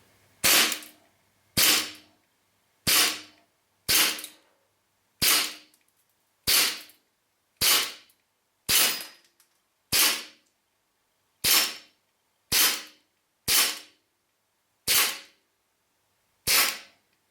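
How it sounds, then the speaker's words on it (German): A Colt 1911 Railgun airsoft pistol emptying a magazine: about fourteen sharp, snappy cracks spaced roughly a second apart, each decaying quickly into silence, close and crisp with no talking. "wir schießen mal ein Magazin durch."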